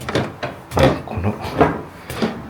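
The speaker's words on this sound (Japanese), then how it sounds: "床のきしむ音がたまりません。" The wooden floor of an old hot-spring inn, Fukudaya at Yugano Onsen in Shizuoka, creaks and knocks under footsteps, giving several uneven, close groans and thuds over about two seconds.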